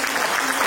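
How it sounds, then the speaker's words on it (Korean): A short burst of steady clapping from an audience at a forum seminar, dense and even, filling the whole moment without speech. "박수 줄 수 있어 박수"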